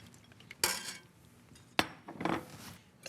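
A spoon clinks against a soup pot as a warm egg-yolk mixture is stirred in, giving two sharp metallic knocks followed by soft scraping, quiet and close.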